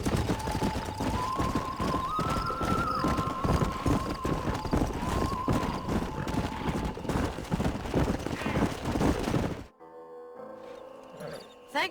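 Horse hooves clip-clop at a brisk, even rhythm in the Red Dead Redemption video game, loud and close under a sustained musical tone, then stop abruptly into near silence with a few faint sounds.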